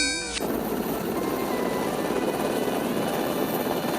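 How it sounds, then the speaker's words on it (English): A Coast Guard helicopter flies steadily with a continuous rotor thrum and broad engine roar, moderately loud and sustained, following a brief tonal sound at the very start. "Coast Guard helicopter."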